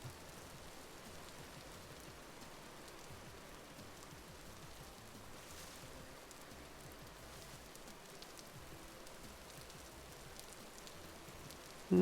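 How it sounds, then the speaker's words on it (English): Steady rain falling in the video game Vintage Story, a soft continuous hiss that stays even and fairly quiet throughout, with no voices over it. "No, I think that's just the rain."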